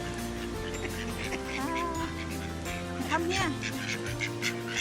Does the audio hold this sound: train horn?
no